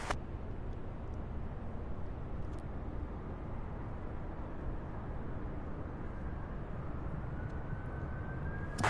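A UPS jet departing Louisville airport gives a steady broadband roar that holds at a constant level throughout, with a faint rising whine building toward the end.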